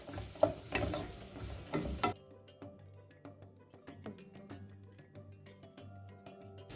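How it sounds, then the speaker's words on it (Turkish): Diced potato and zucchini sizzle in a hot pan, with loud clattering stirring at first, then a quieter crackle and scattered scraping taps. "Patatesimizi ve kabağımızı da 2-3 dakika kadar soteliyoruz."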